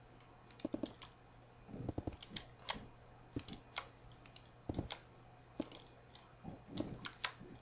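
Fast, irregular clicking of keys on a computer keyboard, close and fairly quiet, arriving in short bursts with brief pauses against a low steady hum.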